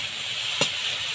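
Steady sizzle of tomatoes frying in a pan, with a brief louder hiss as ground chili paste is dropped in, then the even sizzling carries on.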